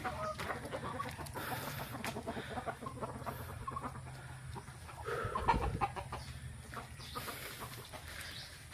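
Chickens and roosters cluck and chatter on a farm in Leyte, a busy mix of nearby and distant bird calls over outdoor ambience.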